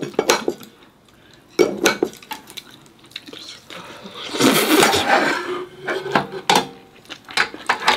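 Chopsticks and metal spoons clink against bowls at a home meal, with a run of sharp, close clatters and one longer scraping rattle in the middle, under light background voices.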